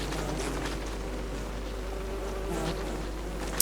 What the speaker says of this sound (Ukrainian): Так ці бджоли реально перевалять цих бафало.